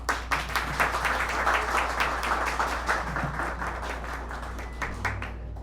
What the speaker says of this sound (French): Je vous demande d'applaudir le nouveau directeur départemental de la Grandance, Dieu Moussa.